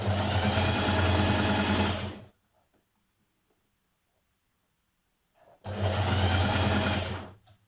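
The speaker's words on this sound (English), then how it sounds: "So try not to pull on it as you're stitching around the neck." A sewing machine stitches around the neckline of a Simplicity 2917 dress in two loud, steady runs, separated by a few seconds of near silence.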